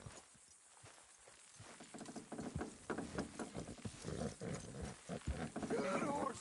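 Horses clop and snort amid a busy, noisy Red Dead Redemption 2 game scene, the din building steadily, with a high, horse-like cry rising near the end.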